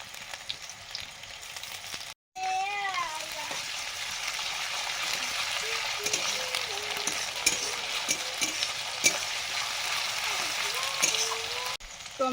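Chopped onion with crushed ginger and garlic fries in a pan, a steady close sizzle with bubbling pops and a few faint voice-like tones, broken by a short gap near the start.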